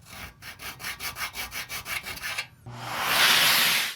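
A tool grinding down small plastic nubs on a PC case, heard first as about a dozen rhythmic back-and-forth rasping strokes, then a steadier, brighter continuous grind, close up with no talking.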